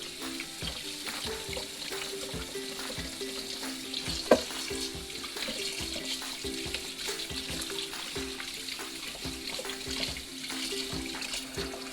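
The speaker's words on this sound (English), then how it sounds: "I'm gonna clean them under water and put them in the pot over here" Cool tap water runs steadily into a kitchen sink while chicken feet are rinsed under it, a faint continuous splashing hiss broken by occasional clinks.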